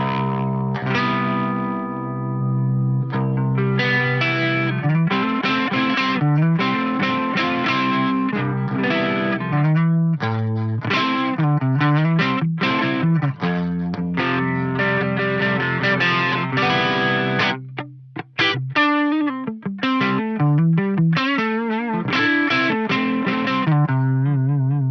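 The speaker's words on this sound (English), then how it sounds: "let's put that compressor on and then we'll kick the chorus in. It should be a pretty sweet, clean sounding type of chorus." Clean electric guitar through a compressor and a Boss GT-1000 chorus effect, chords and picked lines played continuously with a shimmering, even tone and a brief pause near the end.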